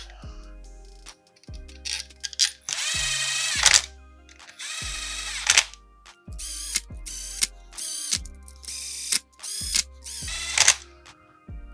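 A ratchet snugs the cam cap bolts on a Polaris Predator 500 engine, giving close, loud bursts of rapid clicking, with short pauses between bolts and no talking.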